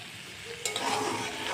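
A fish fries in mustard oil, sizzling quietly until a spatula scrapes and flips it, followed by louder, busier sizzling.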